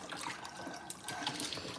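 A short stretch of running tap water spills over goat meat as it is rinsed of dirt, a steady close trickle and splash without speech.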